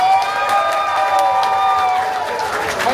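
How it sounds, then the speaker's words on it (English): A group at a Chinese New Year gathering breaks into applause and cheering, with clapping mixed with excited shouts and voices, fairly loud and close throughout the short burst. "Give yourself a round of applause."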